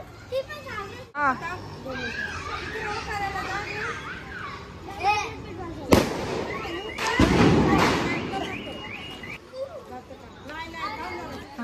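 Kids shout and chatter outdoors as a rocket firework goes off, with a sharp crack and a loud hissing burst in the middle, then excited voices carry on over scattered pops.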